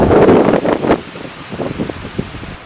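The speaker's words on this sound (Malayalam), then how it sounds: "ഇന്നിവിടെ നല്ല മഴ പെയ്യുന്നുണ്ട് കേട്ടോ." Heavy rain pours down as a loud, steady wash of hiss, strongest at the start and then easing into a softer, patchy patter.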